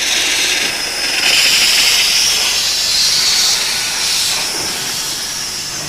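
An old steam engine, about 120 years old, lets out a steady, loud hiss of steam that swells and fades slightly over several seconds, with no talk.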